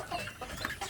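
Native village chickens at a breeding coop give soft, brief clucks, a few faint murmuring calls in under a second, quiet and close with no other sound competing.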